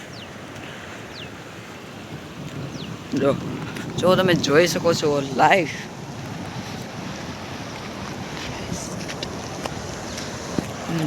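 Floodwater rushes past a house in a steady, broad roar with wind buffeting the microphone, while someone talks over it for a couple of seconds.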